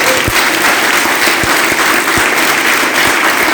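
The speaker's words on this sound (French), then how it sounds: "On applaudit Seigneur encore." Church congregation applauding together in a steady, dense wash of clapping that fills the room, loud and continuous with no voices heard.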